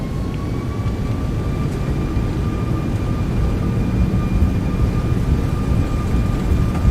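Toliss A340-600 engines spool at takeoff power in X-Plane 12, a loud, constant low roar with a thin steady whine layered above, unbroken and close throughout, without any talking.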